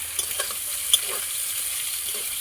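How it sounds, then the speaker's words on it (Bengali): Potatoes frying in a pan for a fish chorchori, a steady close sizzle with a few light stirring taps and one sharper clink partway through. "আলুগুলো দেওয়ার পর লাল লাল করে ভেজে নেব"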